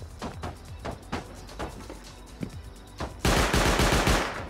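An automatic turret in the video game Rust fires scattered single shots, then a sudden loud, dense burst of rapid gunfire near the end, with no talk.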